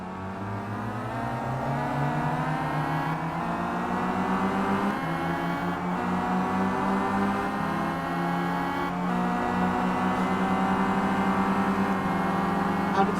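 A BMW touring car from the Simraceway WTCC racing game laps Sonoma Raceway with a loud, continuous engine whine that climbs in pitch and drops back at each gear change.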